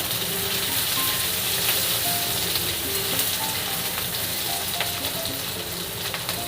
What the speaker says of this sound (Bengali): এটাও একটু ভাজা ভাজা করে নেবো